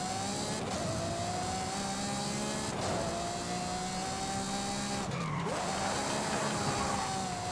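Ferrari skids while drifting, a continuous tire squeal over a loud, steady engine drone that dips and swells in pitch as the car slides, with no talking.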